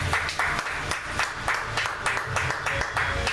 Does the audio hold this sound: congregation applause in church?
yes